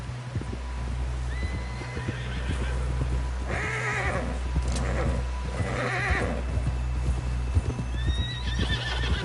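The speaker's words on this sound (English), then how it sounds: "Someone help John down off this horse." Horse hooves clop rapidly in a galloping rhythm with a horse whinnying, in the video game Red Dead Redemption 2, set against a constant low rumble and background noise.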